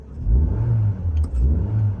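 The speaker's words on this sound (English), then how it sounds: "I'm going to give it a rev." A 2008 Daihatsu Terios 1.5 engine is revved in short bursts, its low mid-pitched growl rising and falling in three quick pulses at close range.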